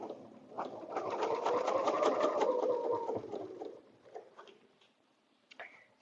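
A quilting machine stitches a butterfly bed runner along the top of the border, its rapid needle pulses running steadily for about three seconds, then slowing to scattered stitches and quiet near the end.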